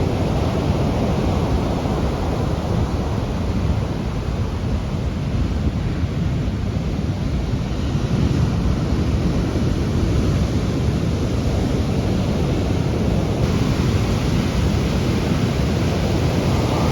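Huge ocean waves crash on the beach at Nazaré, Portugal, making a dense, loud, steady roar of surf and wind that continues without a break.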